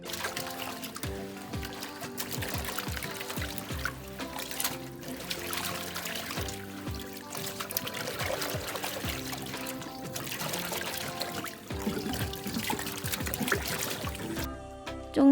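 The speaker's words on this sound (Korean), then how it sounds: "쪽잎 조각이 나오지 않을 때까지 깨끗하게 헹궈주세요." A silk scarf dyed with fresh indigo leaves is rinsed in cold water, with steady close splashing, trickling and sloshing throughout as the fabric is swished and squeezed.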